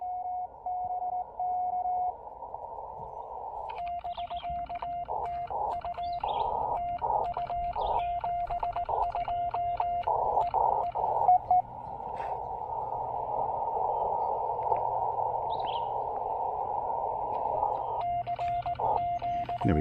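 A steady electronic tone beeps out rapid dots and dashes in irregular bursts, Morse code sent with a cootie key during a morning low-power radio activation at New River State Park, over a soft background hiss.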